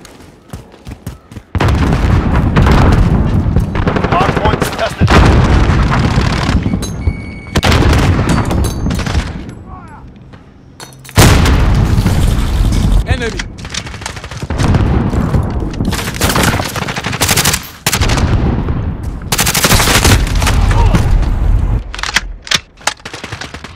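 Gunfire and explosions from Call of Duty Modern Warfare, with dense, loud bursts of rapid shooting and heavy booms that run almost without a break, broken by brief lulls.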